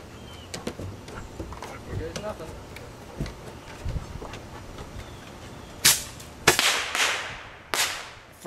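Small RC mini rocket launcher firing several rounds, sharp bursts clustered near the end after a stretch of quieter handling noise, with people talking around the shots.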